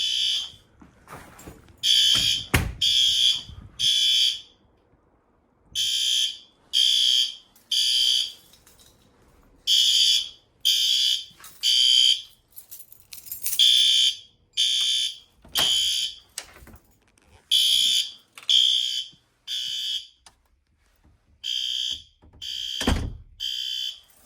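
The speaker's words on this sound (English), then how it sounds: "You see that horn strobe is also working just fine." A garage fire alarm horn strobe sounds during an annual system test, blasting in repeated loud bursts of roughly a second each with short gaps, steady temporal pattern throughout, with occasional door clunks between.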